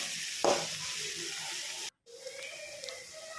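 Onions with a little salt sauté in a pan while seafood prawns are being prepared, giving a soft, steady sizzle with a brief stir, a short cut to silence, then quieter frying.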